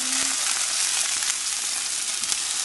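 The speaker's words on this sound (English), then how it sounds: "So the oil hot. She's added onions, garlic, and hot pepper." Onions, garlic and hot pepper sizzle steadily in hot oil, a loud, continuous close-up frying hiss with no voices over it.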